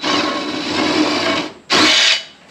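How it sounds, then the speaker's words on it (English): A power drill runs forward to loosen the reverse-thread blade bolt on a Ventrac 4500 tractor, giving a steady close whir for about a second and a half, then a short louder burst after a brief pause. "on your drill, for lack of a better description, instead of going backwards"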